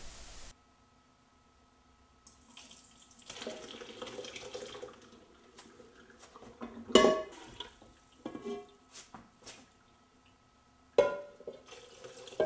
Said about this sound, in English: filter the chana through the cheesecloth